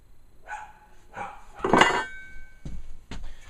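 Several short dog barks come in separate bursts from some distance, mixed with a few sharp clanking knocks like metal being handled nearby.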